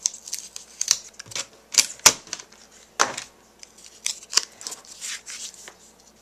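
Paper cardstock is trimmed with a paper trimmer in a run of crisp, close slicing and clicking strokes, irregular and sharp with short pauses between them and no voices.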